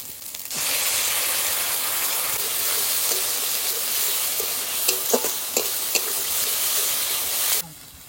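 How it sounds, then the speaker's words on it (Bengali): Ginger and cumin paste frying with onion paste in a pan at a village picnic, giving a steady close sizzle with a few scraping clicks from stirring near the end. "এবার দিয়ে দেবো আদা আর জিরে বাটা।"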